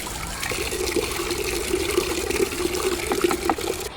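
Water pours steadily into a container to dilute fermented plant fertilizer for potted flowers in a rooftop garden, a continuous near trickling splash lasting throughout with no talk.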